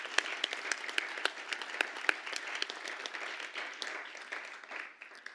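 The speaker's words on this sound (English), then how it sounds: "And a big round of applause." A gathering at a Grade 6 school ceremony claps in appreciation, moderately loud applause with individual sharp claps standing out, gradually thinning toward the end.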